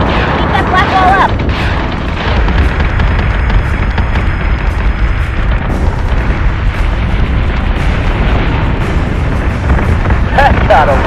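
Ship weapons fire amid explosions in the Battlestar Galactica Deadlock video game, a dense, loud, continuous rumble of booms and blasts with bursts of crackle near the start and end.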